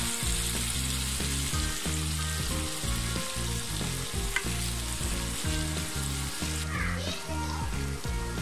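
Fish liver frying over medium heat, a continuous loud sizzle with stirring, overlaid by a steady low-pitched background hum or music and faint children's voices in the distance.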